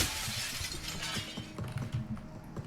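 Glass shattering in the video game Receiver 2, a loud close burst of breaking and tinkling shards lasting a couple of seconds, with no talk.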